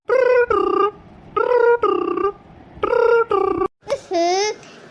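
A mobile phone ringtone sounds loudly and close by in repeated paired tonal bursts, followed by a short warbling, voice-like tone at the end.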